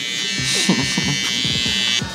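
Electric beard trimmer set to zero gap buzzing steadily up close at a barbershop while taking off a short, sparse beard during a high taper cut, with a continuous high whine and faint voice-like fragments beneath.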